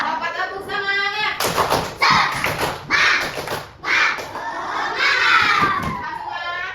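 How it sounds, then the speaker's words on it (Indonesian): Children in a grade 4 primary school classroom clap together in a patterned spirit clap, loud bursts of hand claps and shouts repeating for several seconds with lively voices between beats. "Dapat tepuk semangat."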